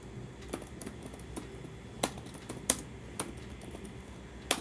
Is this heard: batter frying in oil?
no